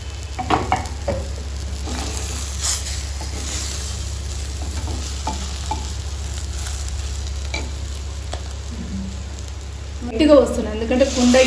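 Capsicum fried rice is stirred in a hot pan, with a steady sizzle and a constant low hum under scattered scraping strokes that grow louder and busier near the end, close up.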